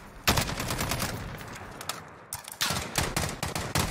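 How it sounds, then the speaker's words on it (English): Rapid gunfire from the video game Call of Duty Warzone, a burst of loud, sharp shots and crackling bursts that start abruptly and recur in clusters over a dense, busy game background. "There's one shot"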